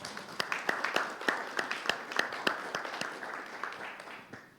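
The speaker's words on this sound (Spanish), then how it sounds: "un aplauso a Sakti" Applause at a public dialogue event on the education budget: scattered, fairly sparse hand claps from a modest crowd that tapers off toward the end, with some murmuring underneath.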